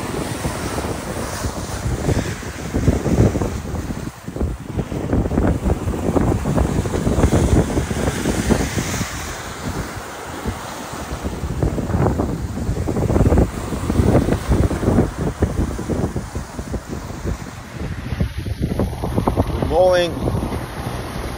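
Strong wind buffets the microphone over rushing waves, a steady roar rising and falling aboard a sailing catamaran crossing the Atlantic in rainy, bad weather; brief voices come through near the end.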